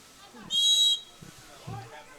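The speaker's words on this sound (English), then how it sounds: "And that pass went off the head of Krieger, but the whistle against the Tigers" A single sharp referee's whistle blast sounds for about half a second at a women's water polo match between Pacific and San Diego State, with a commentator talking before and after it.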